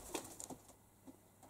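Wild pigeons make soft, faint cooing calls and a short flutter of wings close by, a few scattered sounds over quiet background.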